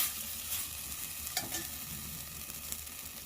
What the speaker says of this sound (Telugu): తగినంత ఉప్పు వేసుకోవాలి వేసుకొని కొద్దిసేపు ఇలా ఫ్రై చేసుకోవాలి